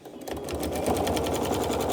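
A sewing machine quilting runs at a steady fast stitching rhythm, its close mechanical whir and rapid ticking building up quickly and holding loud throughout.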